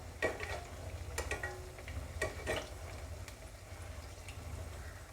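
Rava and potato snack frying in medium-hot oil, a soft steady crackling sizzle with a few sharper pops and clicks of stirring, close and fairly quiet, no voices.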